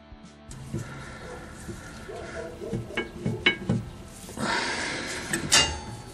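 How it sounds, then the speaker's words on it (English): Plastic-and-metal brake pad retaining clips snap into place on the rear brakes of a 2015 Honda CR-V, giving a few sharp, close clicks and taps amid handling clatter. "When you install the new brake pad retaining clips, they just snap in."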